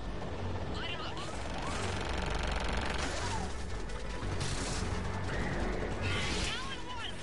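Gunship air support fires on ground targets in the Mass Effect 3 game, a dense, continuous barrage of rapid gunfire and mechanical clatter under a busy battle soundscape, steady and loud throughout.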